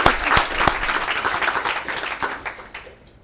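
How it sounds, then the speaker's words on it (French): An audience at a digital health innovation and security conference bursts into applause, loud dense clapping with a few distinct nearby claps, which then tapers and fades to quiet near the end. "je pense qu'on peut l'applaudir"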